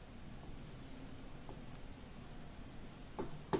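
A pen scratches across paper in a quiet room during a maths lesson, soft intermittent strokes with brief pauses between words, close and faint.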